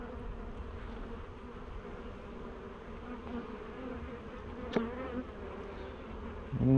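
A honeybee colony with a failed queen drones in a steady, close buzz while its frames are shaken out, the hum holding level throughout with a brief sharp knock near the end.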